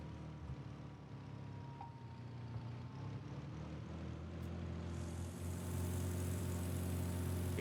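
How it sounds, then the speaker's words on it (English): Yakovlev Yak-18T piston engine in a flight simulator game, running held on the brakes: a steady low engine drone that swells slightly louder and brighter toward the end as it revs, with no talk. "so you can hear the engine, what I'll do is I'll rev it up a little bit"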